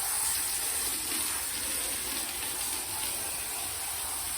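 Water runs steadily while soap is rinsed from a horse's tail, a continuous close splashing gush with a bright hissing edge throughout.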